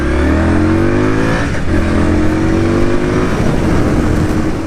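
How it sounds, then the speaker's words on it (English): A motorcycle engine revs hard with a loud, continuous exhaust note, pitch climbing then dipping and rising again as the throttle works, close and steady with no talking. "One thing I couldn't really shake though was the engine's sound."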